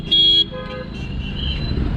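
A car horn gives one loud, sharp blast close by on a rainy road drive toward Aurangabad. Fainter horn tones follow over steady road and engine rumble.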